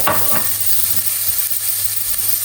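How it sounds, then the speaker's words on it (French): Onions sautéing in a frying pan for risotto alla carbonara, a loud steady sizzle and hiss close by, with a couple of soft stirring sounds early on. "Sur la poêle. Et là, je vais faire revenir mes oignons."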